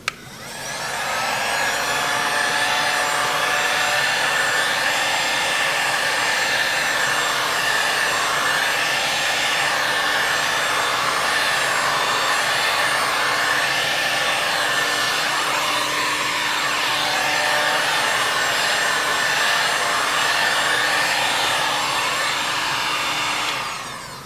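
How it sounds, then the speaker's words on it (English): Heat gun warming a car body panel in preparation for glue pulling, a steady loud whooshing blower drone that starts abruptly, holds constant for over twenty seconds and then cuts off, with no talk. "A great way to do that is to use your heat gun."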